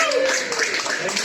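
Audience applause at a live event for a standing ovation, a dense continuous patter of clapping under a speaking voice.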